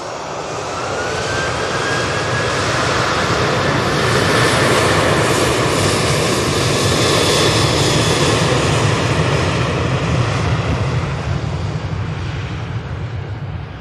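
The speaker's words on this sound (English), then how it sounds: "Just watching the TUI as it comes over to us." A TUI airliner passes over Manchester Airport, its loud jet roar swelling and holding steady for the whole stretch before easing slightly, with no voices over it.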